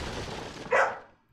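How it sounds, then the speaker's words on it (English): A dog barks once, loud and close, over background murmur during a live stream of Resident Evil 4, then the sound fades to near silence. "I will mute myself if he keeps barking"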